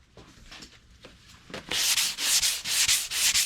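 A fiberglass gelcoat repair is sanded with 150 grit paper. Light scratchy strokes start things off, then give way to loud, close, rhythmic back-and-forth rasping with no talking.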